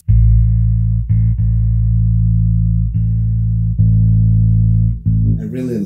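Sustained bass notes played through an Ampeg Venture V7 head into a VB-210 cabinet, a few clean plucked attacks ringing out loud and steady, ending in a brief noisy scrape.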